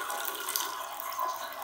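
Water running steadily from a tap in a physics demonstration, a continuous broadband hiss and splash with no pauses, fairly close and moderately loud.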